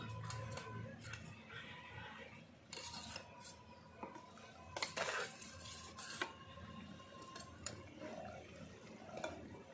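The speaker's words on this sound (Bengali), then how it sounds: "ভেজে রাখা বেগুন, সব এক এক করে পাতিয়ে দেব" Fried eggplant pieces are set one by one into a wok of simmering yogurt curry, with soft clinks, scrapes and wet shuffling close by at a low level.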